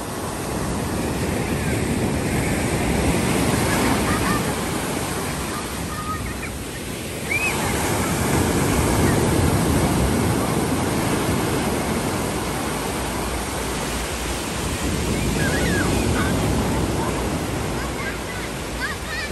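Ocean waves washing onto a beach, a steady broadband roar of surf that swells and eases in slow surges with some wind noise mixed in, fairly close and continuous throughout.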